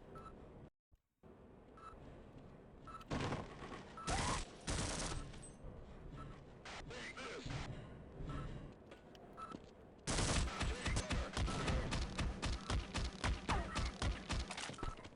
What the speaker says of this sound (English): Why are you shooting me first, man?